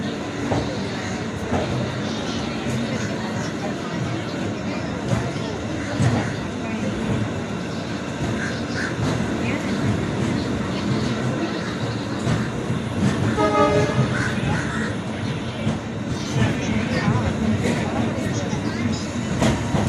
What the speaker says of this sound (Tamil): நமது ரயில் விழுப்புரத்தை விட்டு புறப்பட்டு விட்டது